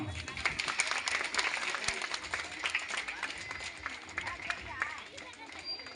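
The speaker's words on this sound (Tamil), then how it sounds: "என்னோட மேஜிக் நீங்க எந்த அளவுக்கு என்ஜாய் பண்ணீங்க அந்த அளவுக்கு கைத்தட்ட கொடுக்கலாமா?" A live audience at a magic show claps and cheers together, a dense steady wash of hands with some crowd noise and voices mixed in throughout.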